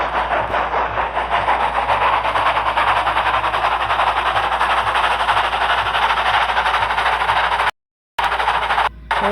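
Percy the engine slowly reversing a goods train, a steady close rumble of engine and rolling wagons with a continuous rhythmic chuffing, briefly cut to silence near the end.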